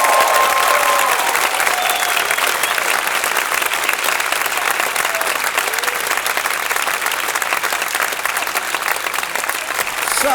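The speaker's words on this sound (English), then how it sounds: "Can we give our performers an absolutely massive round of applause" Loud, sustained applause from a school audience cheering student performers at a Last Night of the Proms concert, dense clapping filling the hall steadily from start to finish with no break.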